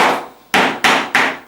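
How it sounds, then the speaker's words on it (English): Three crisp, loud taps of a pin hammer driving high staples flush into the wooden stretcher frame of a canvas print, evenly spaced and close up with no voices. "just tap those home with a pin hammer"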